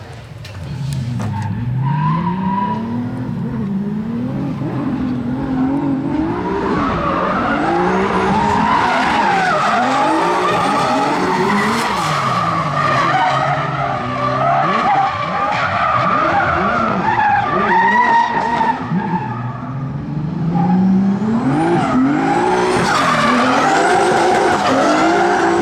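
Drift car at a Swedish drift championship competition, tires squealing and skidding in long wavering screeches over a roaring revving engine, loud and continuous for the whole stretch.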